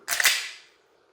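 A single sharp gunshot during a Mantis X10 basic marksmanship drill, loud and close, with a crisp crack fading into a brief ringing tail and no talk.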